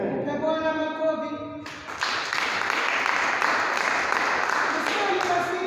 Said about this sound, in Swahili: Mpe Bwana makofi.